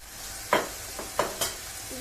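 Chicken brick filling with garlic and parsley fries in a pan while a utensil stirs it, giving a steady sizzle with a few sharp scraping strokes and no voices.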